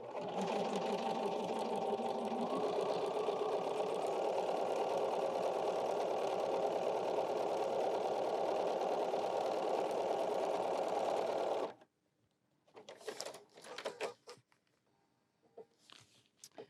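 A sewing machine runs steadily for about twelve seconds, top stitching a folding wallet, then stops abruptly, followed by a few faint handling clicks and rustles.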